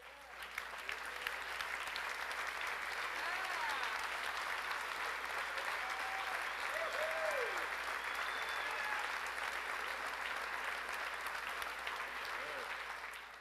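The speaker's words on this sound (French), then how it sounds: "Mesdames et messieurs, applaudissez-le chaleureusement." Sustained audience applause fills a banquet hall at a mayor's dinner, steady and dense for the whole stretch, with a few voices and faint whistles riding over the clapping.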